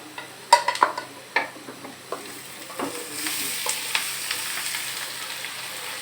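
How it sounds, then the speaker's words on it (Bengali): Beef hits a hot pot for Chittagong-style kala bhuna, with clattering and scraping stirs at first, then settling into a steady sizzle. "এই পর্যায়ে আমি এখন মাংসটা এটাতে ঢেলে দিব"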